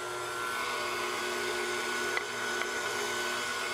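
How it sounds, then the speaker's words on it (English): An electric mixer runs on high, beating gluten-free dough with a steady, even whirring drone that holds throughout, close and unbroken except for two small clicks. "I'm going to beat on high for 3 minutes"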